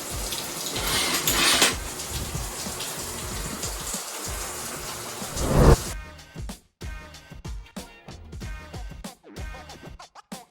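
Shower water running in a bathroom, a loud, continuous hiss of spray for about six seconds before it cuts abruptly to quieter, choppy sounds.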